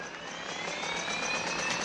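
A helicopter in GTA 5 gives a steady whirring, jet-like engine drone with a faint rising whine, continuous and fairly loud, alone with no talk.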